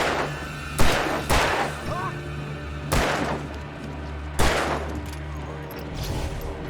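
Gunfire in the Alan Wake video game, a handful of sharp, loud shots spaced a second or so apart over a low humming game soundtrack.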